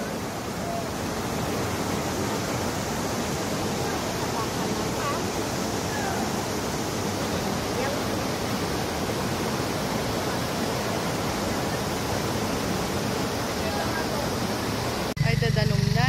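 A steady, dense roar of water from Iuka Falls on a waterfall outing, continuous and loud for the whole stretch, with a brief bump of different noise right at the end.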